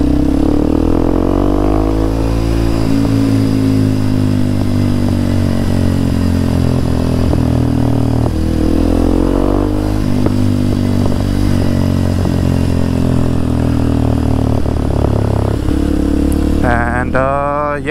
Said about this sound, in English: Oh, motor's been running for a few minutes